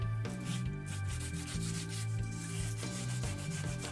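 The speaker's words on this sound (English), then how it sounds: "I'm just using a bit of sandpaper there just to sand off any rough edges around the mould, on the legs." Sandpaper rubs back and forth over the rough edges of a fibreglass mould's legs, a steady close scratching in rhythmic strokes that continues without a break.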